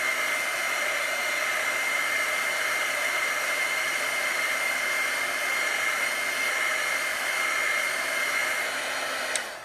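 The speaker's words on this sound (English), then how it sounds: "If you want it to dry faster, simply take a heat gun or a blow dryer." A blow dryer runs steadily and close, a constant even whoosh drying a chalk craft project, with no talk over it.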